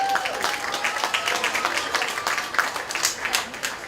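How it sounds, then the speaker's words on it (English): A county fair crowd gives a modest round of applause, a steady patter of close claps that carries on for several seconds with some voices mixed in. "let's give her a nice round of applause."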